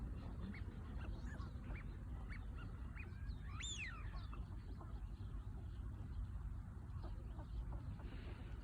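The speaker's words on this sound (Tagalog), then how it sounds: "Daming swan dito." Swans call from the water somewhere in Japan, a few honking, bugling notes rising over a steady noisy background, with one clearer call near the middle.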